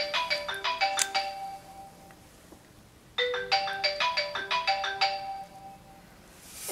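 A phone ringtone rings unanswered indoors during nail art work, two bursts of bright repeated chiming tones separated by a pause, fairly quiet and clear with no voices.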